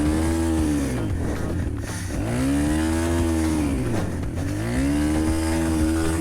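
The cheapest dirt bike's engine revs up and down with a slipping clutch, rising and falling in pitch in long drawn-out whines, loud and close, with no talk.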